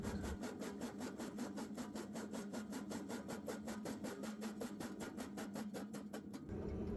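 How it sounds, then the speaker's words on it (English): A 6x10 jaw crusher grinds an ore sample for gold prospecting, giving a continuous, rapidly pulsing crunching and grinding roar that stays steady and close before dropping off at the end. "The crushing process starts here with one of our 6x10 jaw crushers."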